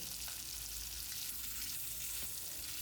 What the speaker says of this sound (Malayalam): അപ്പോൾ അത് മീൻ വറക്കലാണ് ഇനി അടുത്തത്